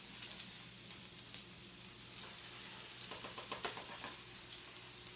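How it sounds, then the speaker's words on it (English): Bacon sizzles and fries steadily in a pan while cooking for okonomiyaki, a continuous close crackle with scattered pops throughout and no talking. "make sure that my bacon is all cooked"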